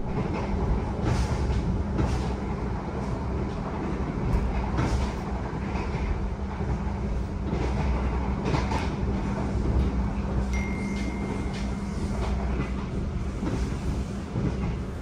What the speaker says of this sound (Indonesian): Perjalanan kereta api Bogowonto yang saya naiki kini telah tiba di stasiun Kutoarjo.